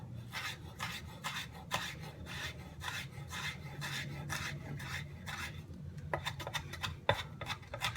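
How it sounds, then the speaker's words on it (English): A knife dicing tilapia on a cutting board for fish tacos, a rhythmic series of scraping, rasping strokes about twice per second, close and steady, with a couple of sharper knocks near the end. "Once again, here we go with the dicing."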